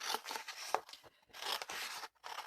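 Scissors snipping and cutting through material in a quiet indoor craft setting, several short crisp cuts with brief pauses between, close and faint, no talking.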